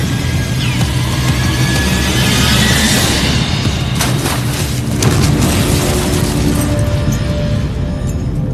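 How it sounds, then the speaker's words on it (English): A big explosion rumbles loud and close as a deep, sustained roar with crackling bursts and a second surge midway, then fades slowly toward the end. "Oh, that explosion was so cool!"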